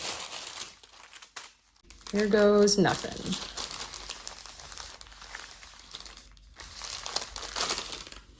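Parchment paper laid over fleece fabric crinkles and crackles under a pressing iron, a loud burst of crumpling that rises after a brief quiet, then softer rustling continues while a person talks.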